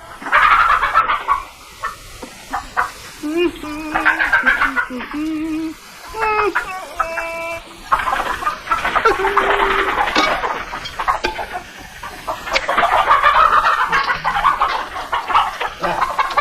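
Chickens cluck and squawk close by in a busy, uneven chorus, with higher bird calls breaking through and some people talking among them.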